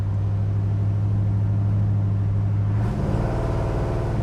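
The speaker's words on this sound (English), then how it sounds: "Car has good acceleration." A 1966 Chevrolet Chevelle SS driving on the road, its engine droning steadily at a low pitch, then shifting abruptly near the end as the tone changes and the car accelerates, heard from inside without talk.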